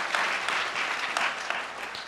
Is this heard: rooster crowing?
no